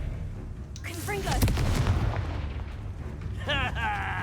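Spell explosions cast in the Hogwarts Legacy video game: booming blasts and magical whooshes over a low rumble, with a voice calling out spell names amid the bursts.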